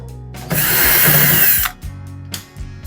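A power drill whirs for about a second backing screws out of the cabinet of a top-load washing machine, loud and close, followed by quieter clicks and handling noises.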